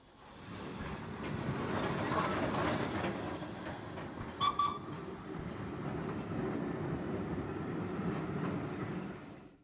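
A heritage train on the North Yorkshire Moors Railway passes Newbridge, a steady rolling rumble of wheels on track that builds, holds and fades, with a brief metallic squeal midway.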